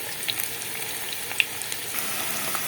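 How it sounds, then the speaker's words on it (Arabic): Onions fry in oil in a pan, a soft, steady sizzle with scattered small pops and crackles, close and fairly quiet. "وفي طاسه تانية انا حطيت زيت وهحمر البصل"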